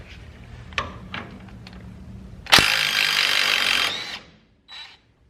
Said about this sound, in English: you're going to put a wrench on the other end here. Yeah, there we go. And hit it with the impact.